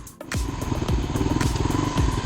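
A small single-cylinder Kawasaki KLR 250 dual sport motorcycle engine runs close by with a rapid, uneven thumping putter and brief rises in revs.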